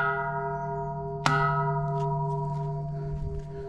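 A second temple bell at Wat Doi Kong Mu, Mae Hong Son, hit once with a stick: a single sharp strike mid-clip over lingering ringing, then a long, even hum fading slowly with faint background noise.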